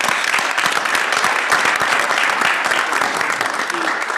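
Audience applause at a university system board of regents public session, a loud, dense burst of many hands clapping that holds steady for several seconds before easing slightly at the end.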